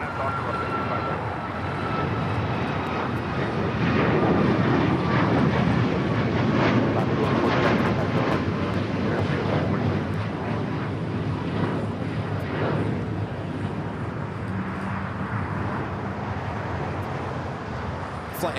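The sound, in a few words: Alaska Airlines Boeing 737 MAX 9 jet at LAX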